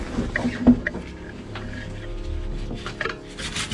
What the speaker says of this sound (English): it's time to sand all the backing plates made by plywood